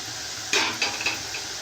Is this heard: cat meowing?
no